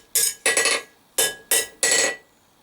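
A blacksmith hammers a fire poker's diamond tip straight, five sharp ringing metal blows in an uneven rhythm, close and loud, some with quick rebounds.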